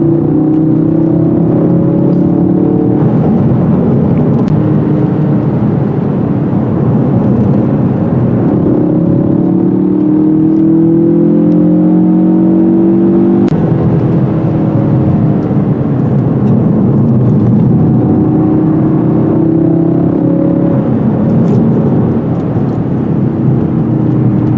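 A 2016/2017 Ford Focus RS drives at high speed, giving a loud continuous engine drone and road roar whose pitch rises and falls with gear changes, with no talking.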